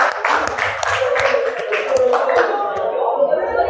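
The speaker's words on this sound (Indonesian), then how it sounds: "Tepuk tangan." A classroom breaks into applause after a presentation, dense overlapping hand claps close by that taper off toward the end, with voices mixed in.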